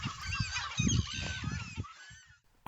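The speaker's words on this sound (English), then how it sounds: "The oyster catchers were ever present" Oystercatchers call in the Shetland Islands: a short burst of loud, shrill, overlapping piping calls that fades out near the end.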